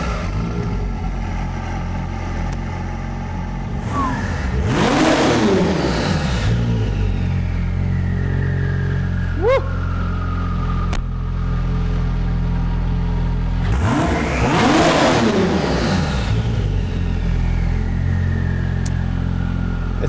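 An 800-horsepower Porsche 911 GT2 engine idles with a deep steady rumble, then climbs through two strong revs that swell and fall away, plus a shorter blip between them, all close and without talk.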